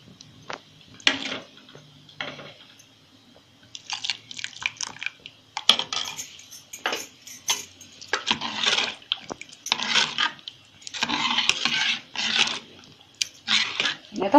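A wooden churning stick is rinsed under running water in a home kitchen, making irregular splashing, scrubbing and clattering bursts separated by short pauses, close by and with no speech.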